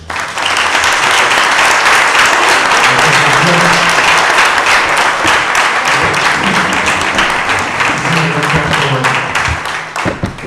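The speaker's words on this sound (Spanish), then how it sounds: "Le voy a pedir un fuerte aplauso" A lecture audience breaks into loud, sustained applause for a guest speaker, heavy dense clapping filling about ten seconds with a low murmur of voices underneath before it cuts off sharply.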